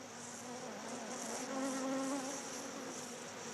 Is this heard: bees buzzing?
yes